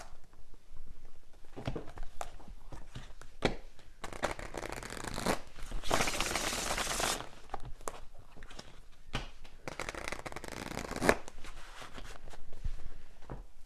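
Tarot cards are shuffled and drawn: repeated riffling bursts of card shuffling alternate with softer flicks and taps of cards being handled, close up and fairly quiet.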